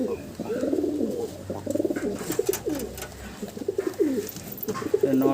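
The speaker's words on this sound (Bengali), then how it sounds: "নর পায়রা আছে বন্ধুরা।" Male pigeon cooing near and loud, a low throaty rolling coo repeated in phrases, from an old-generation full-seal bird among pigeons at a Kolkata pigeon sale, with other birds faintly chirping behind.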